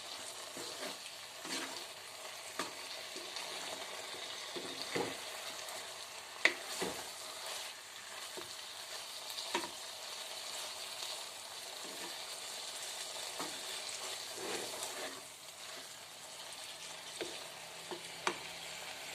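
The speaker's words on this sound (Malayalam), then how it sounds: "കണ്ടോ നന്നായിട്ട് ഫ്രൈ ആയി വരുന്നുണ്ട്" Soya chunks fry steadily in a hot pan of oil, giving a continuous crackling sizzle broken by occasional scrapes and stirs of a spoon, close and moderately quiet.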